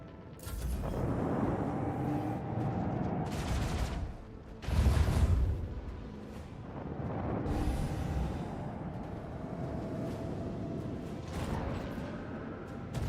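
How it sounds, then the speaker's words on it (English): Starship gun batteries fire in Warhammer 40,000: Rogue Trader, giving several heavy booming volleys with whooshing tails and a loud burst near the middle. A low hum of game ambience sits underneath, and there is no talk. "Fire the last batteries. Alright, just do as much damage as we can."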